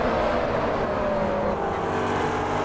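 In a sim racing game at Spa, a race car rolls slowly down the Kemmel straight, giving a steady, moderately quiet engine drone that stays even throughout.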